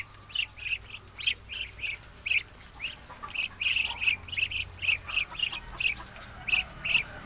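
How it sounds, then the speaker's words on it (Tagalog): Young ducklings peep in a steady stream of short, high, repeated calls, fairly close and loud, with no talking. "Ayan yung mga maliliit pa na pato."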